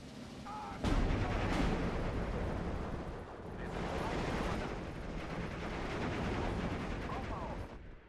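Katyusha rocket artillery salvo fired in the Steel Division 2 war game, a sudden loud blast followed by a sustained rumbling roar with a second swelling wave of launches, heard close and dense.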